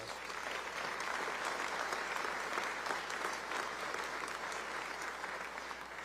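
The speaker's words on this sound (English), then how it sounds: "Give yourselves a round of applause" An audience applauds a state governor's opening address to the 2026 Louisiana Legislature regular session in a steady, dense wash of clapping that holds evenly for about six seconds.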